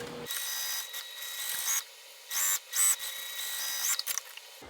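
A sewing machine bastes around a slip pocket 1/8 inch from the edge, whirring in one long steady run and then a few short stop-start bursts, close and alone.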